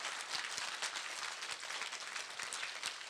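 A seminar audience at a 2011 health lecture claps together briefly, a soft, distant-sounding patter of many hands, steady and fairly faint.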